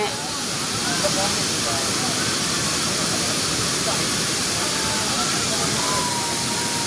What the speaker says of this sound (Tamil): தண்ணி பாருங்க சட்டான்னு பயங்கரமாக வருதுங்க.